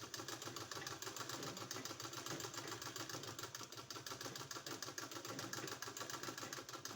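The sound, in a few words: sewing machine stitching a neck design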